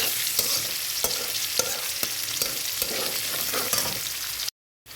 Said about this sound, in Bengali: পেঁয়াজটা একটু লাল করে ভেজে নিতে হবে আমাদের